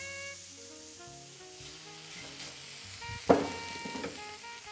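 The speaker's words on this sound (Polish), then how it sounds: "kładę trzeciego staka, który będzie stakiem krwistym" A beef tenderloin steak laid into a hot pan, giving a sudden sharp sizzle that settles into quieter frying, with soft background music playing throughout.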